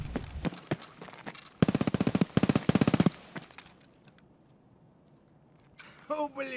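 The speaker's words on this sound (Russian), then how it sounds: "Выстрелы как будто на улице, кстати." Rapid automatic gunfire from an Escape from Tarkov night raid, a loud burst of tight repeated shots lasting over a second, followed by fainter distant shots and ambient noise, with someone talking before and after.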